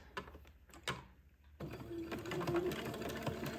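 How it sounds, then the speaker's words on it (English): A sewing machine set to zigzag tacks entredeux onto a fabric fold on a baby's day gown; a few soft clicks are followed by a steady, close mechanical whir that runs to the end. "let me set my machine to a zigzag for sewing entree"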